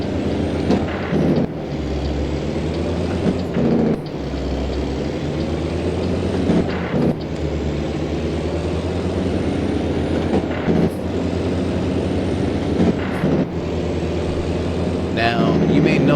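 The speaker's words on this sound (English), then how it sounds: "you may notice you hit a Jake brake every so time you hear me shift" Truck engine with Jake brake bursts during gear shifts in American Truck Simulator, a loud sustained diesel drone broken by several brief dips and surges as gears change, with someone talking over it.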